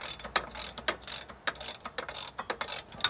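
A ratchet wrench with a 30mm socket clicks in repeated quick bursts while tightening the rear wheel hub of a Mitsubishi 3000GT/GTO 4WD, close and loud with brief pauses between strokes.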